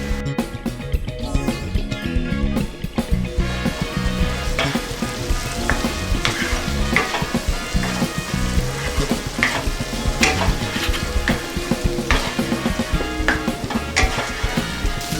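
Prawns are stirred into butter, garlic and ginger in a pan. There is a steady, loud sizzle with frequent scraping and stirring clicks throughout, and no talk.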